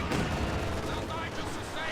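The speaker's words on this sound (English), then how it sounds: "Katyusha barrage going off" A Katyusha rocket barrage fires in a World War II strategy game, a dense, continuous rumble of launches and blasts that stays loud throughout, with a voice commentating over it.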